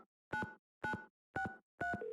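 Telephone keypad tones sound in the Nancy Drew game Secret of the Scarlet Hand: four evenly spaced dual-pitch beeps, clean and alone, with a steady tone starting at the end.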